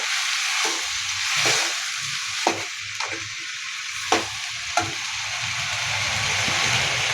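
Washed pumpkin pieces sizzling in a pan while being stirred, a steady frying hiss broken by a few sharp scrapes and clacks of the spoon against the pan, close and with no voices.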